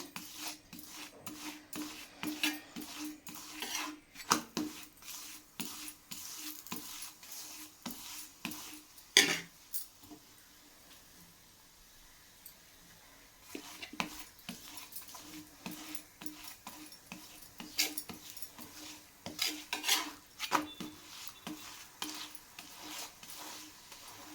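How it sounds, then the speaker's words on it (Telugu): Wheat-flour chapati with drumstick leaves roasting on a hot pan as oil is added, giving soft rasping and scraping sounds with low sizzling, in irregular bursts with a quieter stretch in the middle. "కొంచెం కొంచెంగా ఆయిల్ వేస్తూ కాల్చుకోవాలండి ఇదిగోండి కొంచెం ఆయిల్ ఇలా వేసి"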